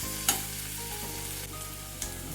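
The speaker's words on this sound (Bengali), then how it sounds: "আলুর টুকরোগুলো একটু প্রথমে ভেজে নিচ্ছি" Potato pieces frying in a pan, with steady sizzle throughout, a couple of sharp clinks from stirring, and a low background hum.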